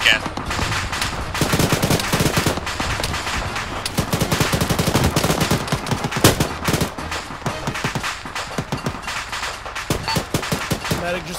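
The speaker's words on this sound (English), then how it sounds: "there's a medium machine gunner engaging them" Medium machine gun fire in Arma 3 rattles through long, dense, loud bursts with scattered sharper cracks, continuing steadily throughout.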